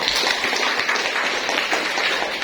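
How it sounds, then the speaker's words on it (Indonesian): Students in a classroom clap for the blue group, a close, dense and steady patter of many hands that lasts a couple of seconds with no talk over it. "tepuk tangan untuk kelompok biru"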